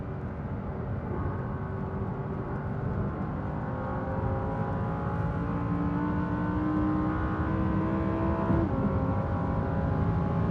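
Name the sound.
Audi R8 RWS accelerating toward top speed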